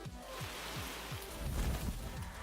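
Merigold's Hailstorm card in the Gwent video game lands as a pattering rush of hail, a dense rain-like clatter with low thudding impacts that swells briefly midway.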